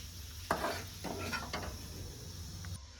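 Raisins frying in a pan for vermicelli payasam, a soft close sizzle with a few spoon scrapes and stirs, ending abruptly.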